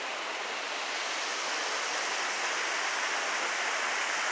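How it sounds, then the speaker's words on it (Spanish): Waterfall in Yosemite National Park, California, roars as a steady, dense rush of falling water, loud and unbroken throughout with no voices. "Aquí estamos en la pura cascada."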